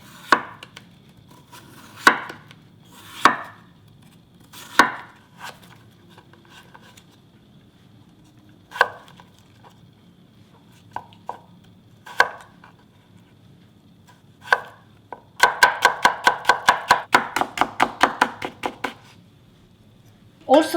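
A knife chops a seedless English cucumber on a board for a Korean platter of nine delicacies, first in scattered single cuts, then in a fast steady run of crisp close chops, with a voice talking between cuts.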